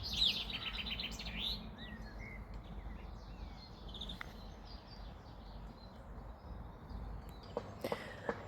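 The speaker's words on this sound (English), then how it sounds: "The birds love it here." Birds chirp and tweet against a steady outdoor hush on a countryside walk near Pitlochry, Scotland, with a few bright calls close by early on and scattered fainter calls later, plus a couple of light knocks near the end.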